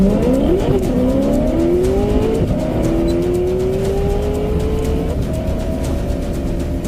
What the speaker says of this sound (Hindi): जय हवा की गति से उस सीधे रास्ते पर गाड़ी भगा देता है